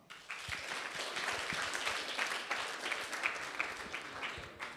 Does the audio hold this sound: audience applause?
yes